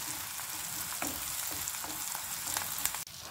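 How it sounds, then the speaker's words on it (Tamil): Salted onions sauté in a pan, giving a steady, moderate sizzle with occasional stirring clicks and a brief sharp knock just before a sudden dip near the end. "நல்லா வெங்காயத்தை சுருங்க வதக்கிக்கோங்க."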